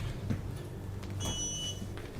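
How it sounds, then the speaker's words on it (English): A Roto VR Explorer motion chair gives a short electronic beep, a pair of thin high tones heard faintly over low room hum and light shuffling, with no speech. "Okay, you got a beep from the chair there."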